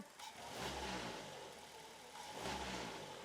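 A car engine with excess body vibration, a worn engine mounting and a cracked air filter case, revved twice from idle, each rise swelling into a rough roar and settling back, heard faintly and without talk.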